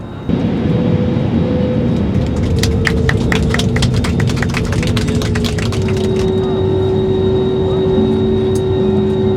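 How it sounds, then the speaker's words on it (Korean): A steady, loud roar of cabin noise fills a passenger airplane on a flight from Istanbul to Cyprus, with a constant engine hum, brief clicking and rattling midway, and a voice speaking over it. "저는 이스탄불에서 지금 키프로스 가는 비행기를 탔어요"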